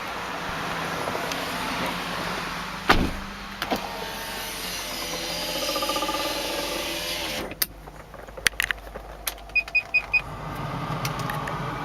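Idling V8 engine of a 1995 Lexus LS400 with 161K miles, a steady low hum heard from inside the car, with clicks and short electronic beeps from the cabin controls.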